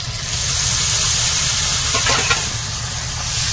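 Water poured into a pan of sizzling chicken curry spices, producing a loud steady hiss and sizzle with a brief burst of splashing bubbles midway, close up and without speech.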